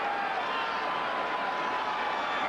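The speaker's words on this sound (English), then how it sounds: "Now the crowd's coming alive here" A large football stadium crowd at a 1982 Giants at Redskins game roars in a steady, distant wash of cheering that holds evenly throughout.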